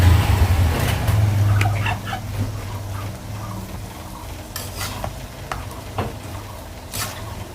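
Goat tripe frying in a little oil over a stove, a steady crackling sizzle with stirring scrapes and occasional pops, loudest at first and then settling to a softer, even fry.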